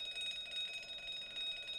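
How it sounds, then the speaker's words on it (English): A fire alarm rings aboard a ship in The Great Ace Attorney, a steady electronic ringing tone that holds without pause for about two seconds, faint and on its own. "It's the fire alarm."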